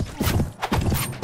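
A horse gallops in the Mount & Blade Warband video game, its hooves drumming in a quick, steady clip-clop rhythm, close and loud throughout the short stretch.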